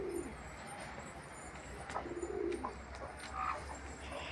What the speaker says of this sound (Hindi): यहाँ पर अपने सब कबूतर दाना चुन रहे